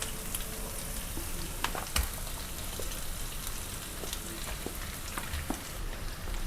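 Boiled potatoes tossed with green chili paste in a hot pan give a constant close sizzle and crackle, with occasional scraping knocks as the mixture is stirred and no talking.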